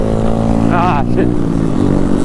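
A motorcycle engine on a charity group ride, with a loud steady drone, a brief rising whine and a sharp change as the rider shifts into a third gear that will not stay engaged, heard under the rider talking.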